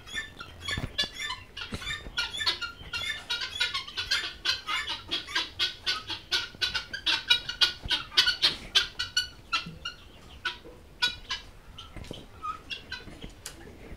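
A flock of Tithi chickens on a farm in Bakshiganj, Jamalpur, clucks rapidly and continuously at close range, the pecking chatter swelling and thinning over fourteen seconds.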